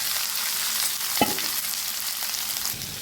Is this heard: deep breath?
no